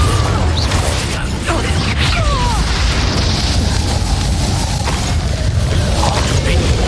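A Confringo spell blasting off in a fantasy video game set in a shadowed manor, a dull booming burst layered over constant rumbling battle noise and mechanical clatter, with a voice shouting spell names nearby.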